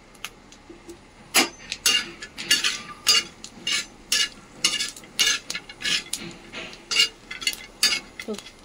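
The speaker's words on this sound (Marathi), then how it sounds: "हे बघू शकता खोबरं भाजून घ्यायचं आहे असं" Grated coconut dry-roasting in a pan, with a utensil scraping and stirring in steady repeated strokes, close and fairly loud, with faint crackle beneath and no talk over it.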